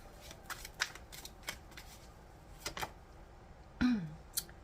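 Soft papery riffling of tarot cards being shuffled, several short bursts spread through the clip, near and quiet, with a brief louder slap near the end.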